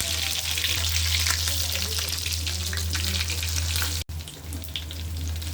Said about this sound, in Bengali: গরম তেলে লইট্টা মাছ দিয়ে দিলাম।